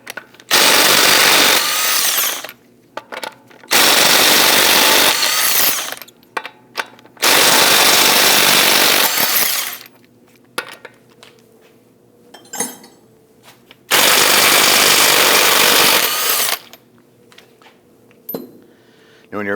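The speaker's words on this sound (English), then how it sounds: "we're going to loosen and remove the lug studs." Impact wrench with a 19mm socket loosening the lug studs on a 2001-2009 Volvo S60, in four loud, close, hammering bursts of roughly two seconds each, with clinks of sockets and metal parts in the pauses.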